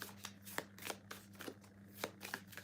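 Tarot cards are shuffled and pulled, giving soft, papery riffles and flicks in a quiet, close room, repeating in a loose irregular rhythm.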